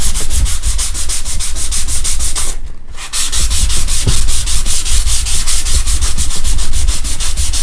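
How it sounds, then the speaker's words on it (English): A sanding pad scrubs back and forth over a wood filler repair in quick, even, loud strokes at close range, pausing briefly once before resuming. "We then would say to take a sanding pad or a scuffer pad."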